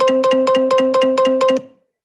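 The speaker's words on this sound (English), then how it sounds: "you could hear what it sounds like when you're holding the phone in the incorrect position. It makes a lot of, it like beeps at you." A phone navigation app beeps repeatedly to warn that the phone is held in the wrong position: seven or eight quick, loud, even-paced electronic tones in steady rhythm, close and alone, then stopping abruptly.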